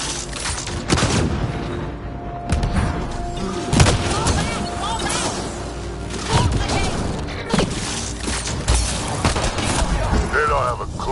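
Gunfire rattles through a Mass Effect Andromeda firefight, dense bursts and heavy thuds running nonstop across the clip at a loud, close level, mixed with game effects and voices talking over the combat.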